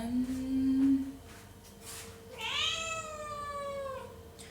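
A cat meows loudly and close, one short call followed by a longer drawn-out meow, indoors in a home.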